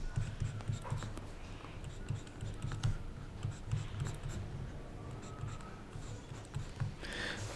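A pen or marker writes out an equation, making rapid scratchy strokes in short bursts with brief pauses, close and fairly quiet.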